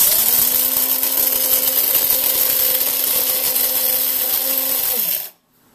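A Proctor Silex Fresh Grind electric coffee grinder grinds coffee beans with a steady, close, high-pitched motor whine for about five seconds, then cuts off abruptly into near silence.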